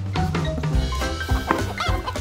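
A chicken clucks close by in a few short, throaty bursts that rise and fall over about two seconds, with no talking.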